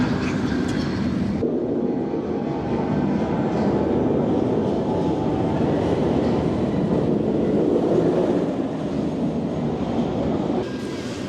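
A Smiler roller coaster train at Alton Towers runs with a steady, loud rumble and a rolling rail roar that continues throughout without pause.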